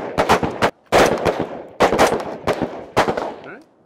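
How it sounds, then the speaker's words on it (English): Carbine rifle shots on an outdoor shooting range, fired in rapid bursts of sharp, loud cracks with short echoing tails, several groups of shots over a few seconds. "Stand by, bring the gun up, aim in, and fire."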